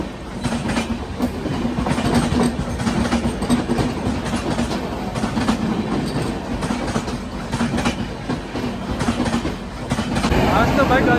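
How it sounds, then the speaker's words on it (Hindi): Varanasi–New Delhi Mahamana Express rolls past on the busy Ghaziabad stretch of the New Delhi–Kanpur main line, a loud, steady clickety-clack of wheels over rail joints with rumbling coaches throughout. "ये Varanasi new Delhi Mahanama express, another very famous train on this section।"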